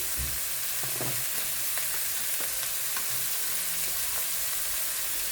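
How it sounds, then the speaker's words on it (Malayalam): Sliced onions hit hot oil after mustard seeds have popped, giving a steady, close sizzle and crackle, with a few soft stirring knocks and clinks against the pan early on. "കടുക് പൊട്ടിക്കഴിഞ്ഞ് ഇനി ഉള്ളി ഇടാം."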